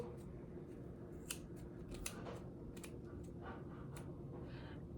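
Crafting scissors snip through pom pom yarn for a heart-shaped wreath, giving a series of close, quick cutting snips in an irregular rhythm over a steady low background hum.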